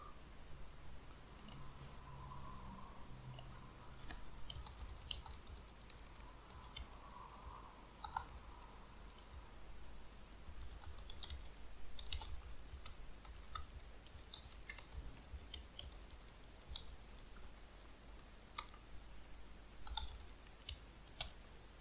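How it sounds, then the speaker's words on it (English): Scattered sharp mouse clicks, quiet and close, while right-clicking and copying an XPath in a browser during Selenium with Java test setup, with a faint hum underneath and no talking. "basically right click on it, then copy its XPath"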